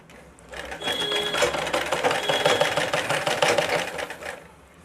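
Sewing machine stitching cross patti strips together, a fast steady mechanical rattle running for about four seconds, close and alone.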